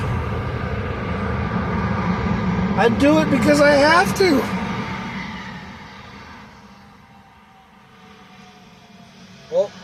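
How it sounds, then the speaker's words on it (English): An airplane passes overhead as a low, swelling engine rumble that builds and then fades over several seconds, heard beneath a person speaking nearby, with a brief sharp sound at the end. "Oh, airplane."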